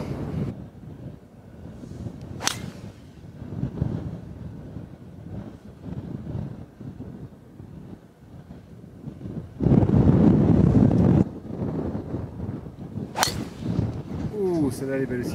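Wind gusting across a golf course during a cold pro-am round, heard as uneven low buffeting on the microphone, with a louder rushing gust midway and occasional sharp clicks.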